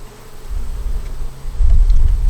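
Honey bees buzzing around an open hive during an inspection, a low droning hum close to the microphone that swells in the second half, with light wind noise and no talking.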